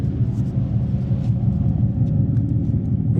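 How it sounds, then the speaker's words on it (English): Simulated muscle-car exhaust played through external speakers on an electric car, a deep, steady rumble that stays close and loud for the whole stretch. "it does do a convincing job of making it sound like a muscle car."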